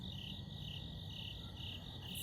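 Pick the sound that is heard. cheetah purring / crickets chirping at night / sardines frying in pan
crickets chirping at night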